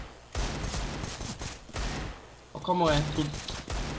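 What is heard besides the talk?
gunfire in a video game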